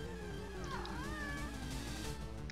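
A cat meows once with a rising-and-falling wavering call, alone and fairly close, over a steady low background hum from an ongoing video game session.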